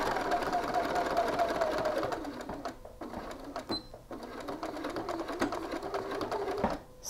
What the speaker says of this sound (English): Sew across.